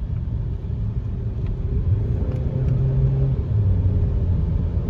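A 2022 Maruti Brezza ZXi+ automatic accelerating hard, heard from inside as a steady, loud engine rumble with a low drone that rises slightly in pitch, no talk over it.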